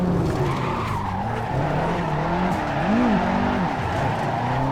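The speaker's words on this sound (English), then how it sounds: "I think I'm scraping right now. I don't know if you heard that." Continuous engine and tire noise from a Nissan 180SX drifting in the racing game Assetto Corsa, a sustained loud roar with wavering tire squeal and scraping texture, steady throughout with no talk.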